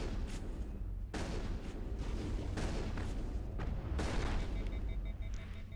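Shotgun fire in the Mass Effect video game: a few heavy, booming blasts spaced roughly a second or more apart, fairly quiet overall, over a steady rumbling background.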